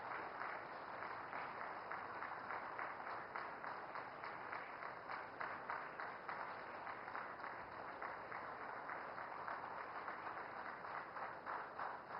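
Sustained applause from an audience at a ceremony for the Prime Minister flagging off a train from Purulia to Anand Vihar Terminal: steady, even clapping with no break for twelve seconds, heard somewhat distantly.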